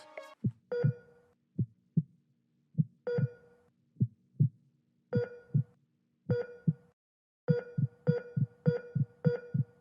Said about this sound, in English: And then we put them both together and this is what we get.